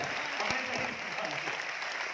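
A seminar audience in Aurangabad claps briefly and steadily, a moderate wash of hands with some speech mixed in.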